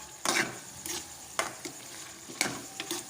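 Potatoes with green chillies frying in a pan, a faint steady sizzle broken by several sharp scraping stirs at irregular intervals, with no talk.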